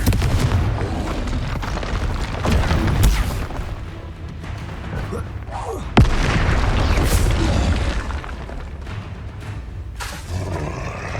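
Explosive Confringo fire spells burst again and again during Hogwarts Legacy combat: loud, dense booms and crackling blasts, one sharp crack standing out midway, over a constant roar of battle effects.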